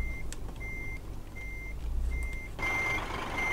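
A Scania truck reversing in Euro Truck Simulator 2 sounds a regular series of high electronic beeps over a low idling engine, which grows louder near the end.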